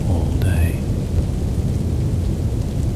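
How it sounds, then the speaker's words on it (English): Steady rain falls outside with a thunderstorm, making a dense continuous hiss over a low rumble. A brief high chirp sounds near the start. "Listen to how the steady rain outside"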